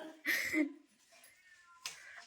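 A cat gives a couple of short meows, close by, separated by quiet gaps with faint background noise.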